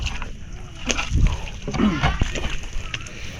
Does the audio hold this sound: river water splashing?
yes